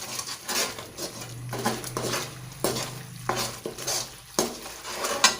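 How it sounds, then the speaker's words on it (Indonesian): Sweet soy sauce stirred into a chicken marinade in a bowl, giving soft scraping and clinking of a utensil against the dish in irregular strokes, close and moderately quiet, with a faint low hum behind. "Ini kita aduk."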